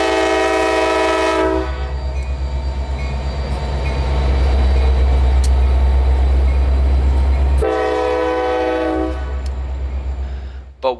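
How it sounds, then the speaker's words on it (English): A CSX freight train led by a rebuilt SD70MAC locomotive sounds its horn in two long, loud chords near the listener, with a deep steady diesel rumble continuing between and beneath the blasts. "Leading the novelty of orange this morning was a CSX SD70 MAC rebuild"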